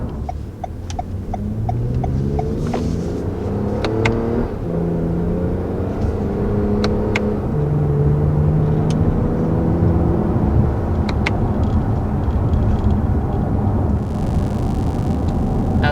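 A 2020 Toyota Avalon TRD engine hums and revs steadily, its deep exhaust note rising and falling in pitch for the whole stretch, close and fairly loud.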